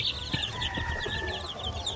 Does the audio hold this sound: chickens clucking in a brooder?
yes